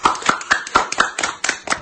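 Celebrities applaud health workers with close, crisp hand claps, roughly ten sharp strikes in a quick, even rhythm, loud and alone without any speech.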